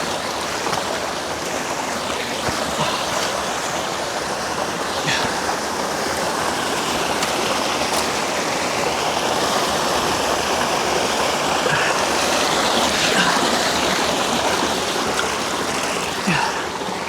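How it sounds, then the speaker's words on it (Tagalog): A strong river current rushes over rocks near Talisay, Batangas, making a loud, close, unbroken roar of churning water that runs throughout. "Lakas ng agos, oh."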